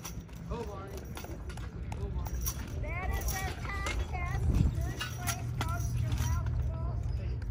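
Horse hooves clip-clop on the ground at a pony pull competition in Ionia, a steady run of hoof strikes beneath loud, continuous crowd and announcer voices and rumbling background noise.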